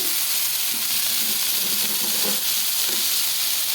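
Raw mango pieces fry in a pan for a tamarind-free mango kuzhambu, giving a steady, close sizzling hiss with soft low bumps of stirring throughout.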